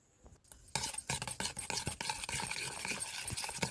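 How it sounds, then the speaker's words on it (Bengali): A spoon scrapes and clinks steadily around a bowl, stirring sour yogurt mixed with salt, sugar, a little cornflour and white oil into a batter for naan puri, close and alone after a brief quiet start. "তারপরে একটু সাদা তেল দিয়ে এটাকে ভালো করে মিক্স করে নেব।"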